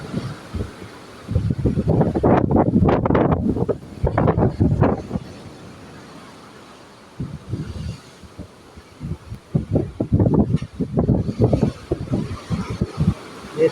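Strong wind buffets the microphone on the port side deck of a ship at sea, rising and falling in loud gusts with a calmer stretch partway through and no clear speech.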